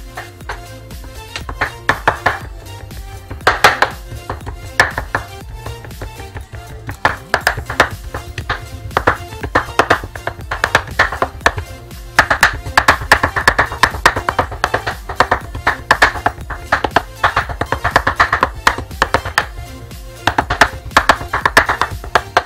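Salted pork minced with a knife on a cutting board, a fast steady run of sharp chopping taps that keeps going for over twenty seconds at close range, with no talking over it.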